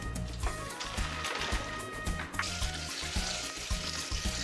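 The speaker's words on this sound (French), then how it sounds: "quand nos patates sont cuites, on va les arrêter et on va venir les rincer" Tap water runs steadily over cooked potatoes in a strainer, a close, continuous splashing rush with small bubbling fluctuations and no voices.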